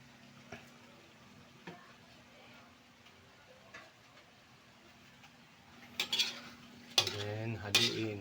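Spoon or spatula stirring creamy tofu with hotdog in a pan, quiet scraping and clinks at first, then a few louder clattering stirs near the end, with no voices.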